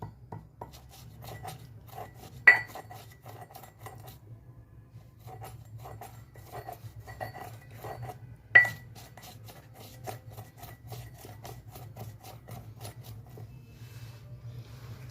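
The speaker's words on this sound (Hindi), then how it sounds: "गुलाब से इसको खरल करना है।" Rose petals from the Dattu brand are ground in a kharal mortar and pestle, giving a faint, quiet rubbing scrape with two sharp clinks of the pestle several seconds apart.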